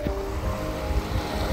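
Sea waves wash onto the beach at Kanyakumari in Tamil Nadu, a steady low surf rumble with wind buffeting the microphone, continuous and fairly close, with no voices.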